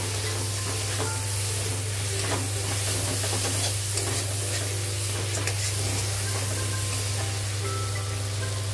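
Large diced onions frying with masala in a kadai for kadai paneer, a loud continuous sizzle with stirring scrapes and a steady low hum underneath, no speech.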